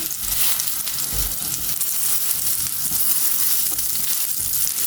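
Burger patties fry over a slow flame in a pan, giving a steady, close sizzle that crackles on without pause and with no voices.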